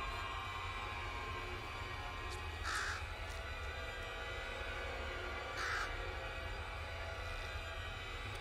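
Two short crow caws ring out about three seconds apart in the video game Bramble the Mountain King, fairly faint over a steady hissing ambient bed with no talk.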